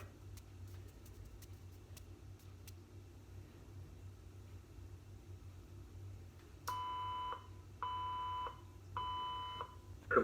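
A talking microwave's timer finishes with three loud, evenly spaced electronic beeps near the end, following a low steady hum of the running appliance and a few faint clicks.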